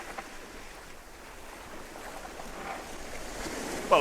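Ocean waves wash up on a shore in a steady, broad rush that swells slightly toward the end, with wind in the background and no one speaking.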